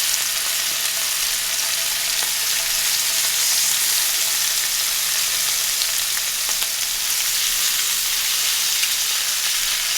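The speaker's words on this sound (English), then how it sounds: "Okay, I'm going to sear the other side." A sous vide tri-tip steak sears in hot oil in a pan, giving a loud, continuous, close sizzle with a crackling hiss that holds steady throughout and has no voices over it.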